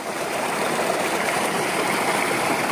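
Cold water from a village tubewell runs along an open channel in a steady, full rushing flow, close and continuous with no talking.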